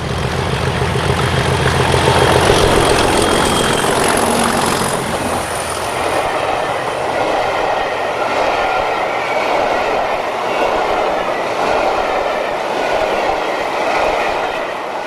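A charter train hauled by Type 3 diesel locomotives, heard as a loud engine throb that passes and gives way to a steady rumble and clatter of carriages rolling by.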